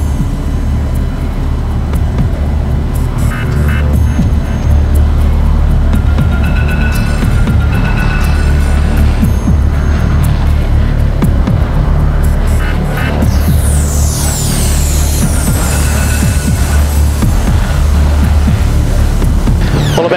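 Street stock race cars roar continuously at Kalgoorlie Speedway, a loud, dense wall of engine noise with passing whines, recorded during an Australian title race.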